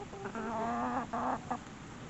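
Chickens and roosters cluck in a backyard flock, a run of close, moderately loud, rhythmic clucks with a couple of short separate bursts near the end, and no voices.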